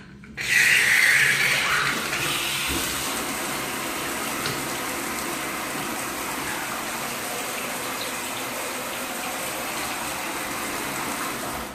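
Water gushes steadily from a bathtub spout and shower, a loud continuous rushing that starts abruptly and holds without pause.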